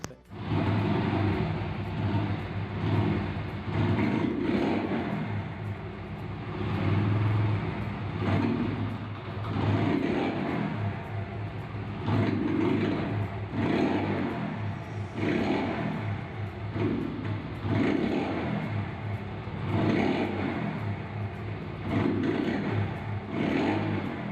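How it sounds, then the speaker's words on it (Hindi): A motorcycle engine with a misfire idles and revs unevenly, its rumble sputtering and stumbling in irregular bursts, close by and continuous with no talking. "इस जो है मोटरसाइकिल की जो मिसिंग है"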